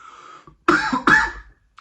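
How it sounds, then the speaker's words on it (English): Two short, sharp coughs close to the mic, following a brief faint voice-like sound. "Sorry about the cough once again"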